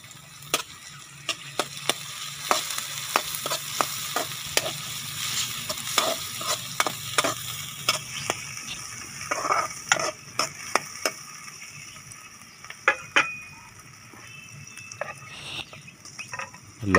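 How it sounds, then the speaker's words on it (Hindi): Ginger paste frying in a small amount of ghee, a soft steady sizzle broken by frequent sharp scrapes and taps of a spoon stirring the pan, close and fairly quiet. "घी को थोड़ी देर फ्राई किया है। अब इसमें अदरक का पेस्ट शामिल किया है।"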